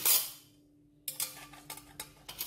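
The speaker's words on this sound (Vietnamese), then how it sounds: "mình sẽ xếp những cái nĩa hoặc cái muỗng ở dưới cái đáy nồi nha các bạn" Metal forks and spoons clink and clatter as they are laid into the bottom of a cooking pot, a few sharp close taps after a brief quiet pause, set out to steam sweet potatoes without water.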